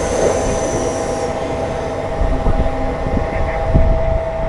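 A Mumbai Harbour Line local train runs loud and close, a continuous roar of wheels and rails with a steady hum and occasional clanks and squeals, heard from inside the carriage without talking.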